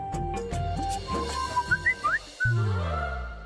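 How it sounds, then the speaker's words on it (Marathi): A short run of whistled notes rises clearly over background music in a flower market scene, a few quick pitched chirps around the middle followed by a longer held tone. "हे आता कोणीतरी शिट्टी मारली. तू ऐकलास ना आवाज?"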